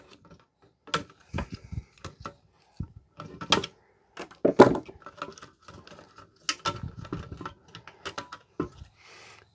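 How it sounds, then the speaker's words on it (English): Wire cutters snip through wires while a Panasonic bread maker is stripped for scrap metal, giving a run of sharp, close clicks and snaps spaced irregularly, with small rattles of parts in between and no talk. "Let's snip some more wires."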